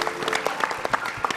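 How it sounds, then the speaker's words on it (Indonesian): Studio audience applause during a television talk show, a dense burst of clapping with a few sharper individual claps, steady and close throughout. "tepuk tangan dulu dong"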